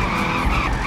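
Tires skid and screech continuously as a car drifts in the online racing game Peak Angle: Drift Online, with a steady loud engine drone underneath and no speech.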